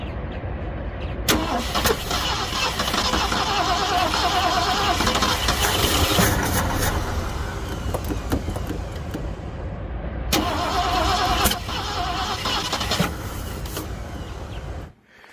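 A 1967 Ford Galaxie engine cranks repeatedly with a loud, grinding starter whir, stops, then cranks again for several seconds before cutting off.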